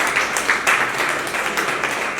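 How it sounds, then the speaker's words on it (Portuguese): An audience at a hip hop talk claps for a B-Boy, a moderate, continuous round of applause with individual claps standing out, steady across the short stretch. "Uma salva de palmas para o B-Boy Dia."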